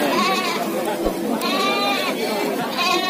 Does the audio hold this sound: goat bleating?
yes